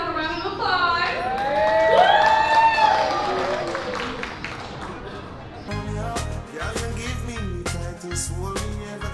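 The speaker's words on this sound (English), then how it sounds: "Give yourself a round of applause." Guests at a 30th birthday party clapping and cheering in a lively room, a crowd of applause and shouts swelling and then fading, with loud reggae music and singing playing over it.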